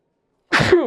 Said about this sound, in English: I'm gonna sneeze.